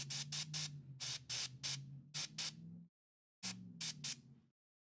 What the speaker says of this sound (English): So I'm really just spraying my thumb here and letting the overspray get up on the arm.